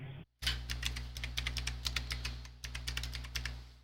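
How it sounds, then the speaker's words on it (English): Typing on a computer keyboard, a quick irregular patter of close, crisp key clicks over a low steady hum, briefly pausing midway before continuing. "please use your keyboard and fill all these details like your name,"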